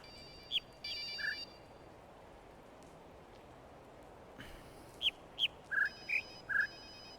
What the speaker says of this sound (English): Putting a phone in the background is a dick move.